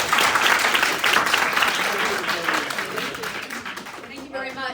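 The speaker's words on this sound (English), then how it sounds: "could I just ask for a quick round of applause" An indoor audience at a club visit gives a dense, loud round of applause that fades slowly and then breaks off, with a voice speaking at the very end.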